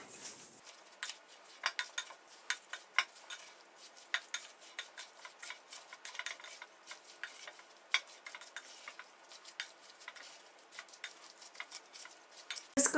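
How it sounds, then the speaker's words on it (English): A spoon stirs cherry pie filling with nutmeg, cinnamon and almond extract in a bowl, giving a steady run of light clinks and scrapes against the dish, close and fairly quiet, with no talking. "So we're going to mix this all together."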